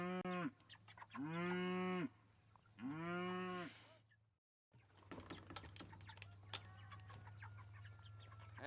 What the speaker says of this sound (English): Cows can be really loud sometimes.